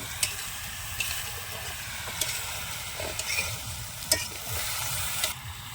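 Grated ginger sautés in oil for vegetarian khichuri, with spinach about to go in: a constant close sizzle runs under repeated sharp clicks and scrapes of a spatula stirring against the pan.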